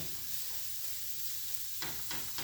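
Zucchini with garlic and ginger sizzles steadily in a hot pan, with a constant frying hiss and a couple of brief stirring scrapes near the end, no talking.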